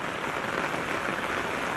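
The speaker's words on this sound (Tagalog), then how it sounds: "Ayan, palakas ang ulan." Steady, dense hiss of heavy monsoon rain pouring down, constant and close with no pauses or voices.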